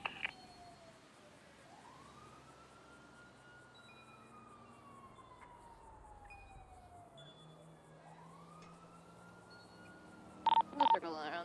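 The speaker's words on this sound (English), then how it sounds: "Your sirens coming through." A police siren in the GTA V NoPixel roleplay game wails in long rising and falling sweeps at moderate distance, with a brief electronic beeping burst near the end.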